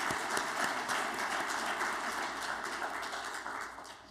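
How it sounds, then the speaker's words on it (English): A fairly faint, steady wash of applause from a commencement ceremony audience fills the whole stretch, softening slightly toward the end. "Can we give her a round of applause?"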